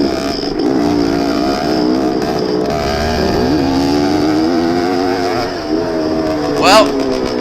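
A 1974 Yamaha MX360 vintage motocross motorcycle racing in a vintage class event, its engine droning loud and steady with shifting pitch, a brief rev near the end, under constant wind-buffeted noise.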